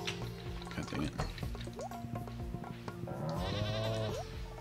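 A sheep bleats in the Stardew Valley farming game, a few short wavering calls over layered game sound effects and a steady ambient background.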